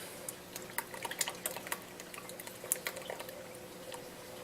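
Whipping cream poured into a bowl for homemade honey butter, a faint, soft liquid splashing with scattered drips and small splats, quiet and close with no talking.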